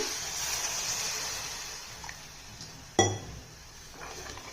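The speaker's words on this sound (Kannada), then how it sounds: "ಇತ್ತಿಗೆ ಬೇಳೆ ಮುಳುಗೋವಷ್ಟು ನೀರು ಹಾಕ್ತೀನಿ" Water is poured over peeled hyacinth bean (avarebele) lentils in a cooking pot, a steady soft splashing hiss, with one sharp metallic clink of a utensil partway through.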